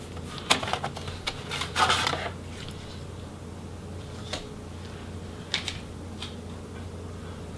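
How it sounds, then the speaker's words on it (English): Optical drive being pulled free from a Toshiba Satellite L50D laptop during disassembly: a few sharp plastic clicks and scraping rattles near the start, then scattered faint ticks over low background hum. "we'll go ahead and just pull that optical drive free"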